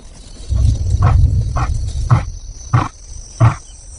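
A male lion at night gives a series of deep grunting roars that come in spaced bursts and fade toward the end, with low rumble underneath and no speech.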